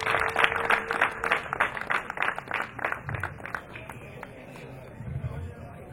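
A crowd gives a burst of rhythmic clapping that gradually thins and fades over a few seconds, with a faint murmur of voices underneath.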